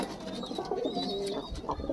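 Pigeons coo in a loft, soft rolling calls repeating close by over a steady low background, with no talking.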